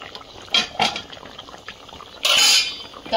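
A lid comes off a pot of hilsa fish curry cooked in yogurt: a couple of light metallic clinks, then a brief bright clatter and rush as the lid lifts away, close and fairly quiet.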